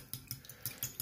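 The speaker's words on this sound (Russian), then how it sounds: "Взбиваем его." Egg and salt being whisked for batter, a fork or whisk tapping against the bowl in light, quick, evenly spaced clicks, quiet and close.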